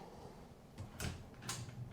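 Hotel room drawer sliding open or shut in a luxury hotel in Almaty, a few soft, quiet wooden knocks and scrapes close by with no talking.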